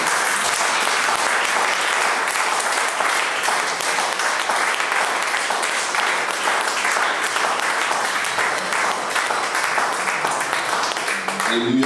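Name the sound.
congregation applauding for the pastor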